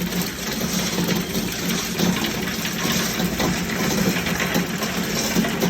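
Crushing machine running just after start-up, a steady loud mechanical whir and rumble with a constant hum, continuous and close, with no voices.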